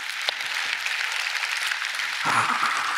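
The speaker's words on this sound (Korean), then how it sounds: "이건 진짜 박수 좀 해줘야 되는 거야" A church congregation at a Korean New Year's Eve service breaks into a wash of applause that swells and then holds at a steady, moderate level.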